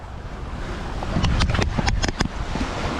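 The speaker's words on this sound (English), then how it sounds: "Oh, these waves." Waves wash in against a shoreline on an Australian mud-crab hunting trip, a steady close roar with a cluster of sharp splashing crashes near the middle, buffeted by wind noise.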